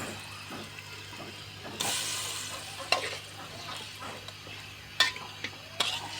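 Pangas fish frying in a pan while being stirred, a steady quiet sizzle broken by a few scraping stirs and sharp clinks of the utensil against the pan.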